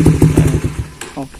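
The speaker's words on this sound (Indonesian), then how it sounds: "Itu untuk knalpot CLD yang orinya" A Honda CB150R motorcycle engine with stock exhaust putters in a rapid, even pulse at close range, with a short voice-like sound near the end.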